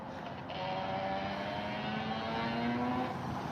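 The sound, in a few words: e-bike riding past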